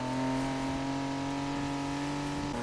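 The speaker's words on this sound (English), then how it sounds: "I'm surprised this i8 sounds this good" A BMW i8 engine in the racing game Need for Speed Heat holds a steady, sustained tonal drone with strong harmonic whine, then shifts pitch slightly near the end as revs change.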